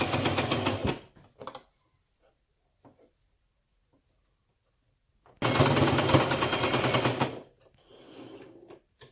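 A sewing machine stitches a fabric face mask in two loud, rapid mechanical bursts, a short one at the start and a longer run later, separated by near silence with a few faint clicks.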